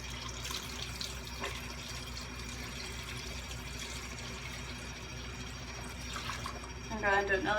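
Water runs steadily from a kitchen tap into a measuring cup, a quiet continuous stream with faint trickling, followed by a short louder gurgle at the end.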